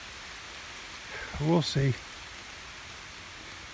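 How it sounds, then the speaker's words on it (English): Rain falling in a forest, a faint steady hiss throughout, with a brief spoken phrase near the middle. "Hey, it's starting to rain pretty good."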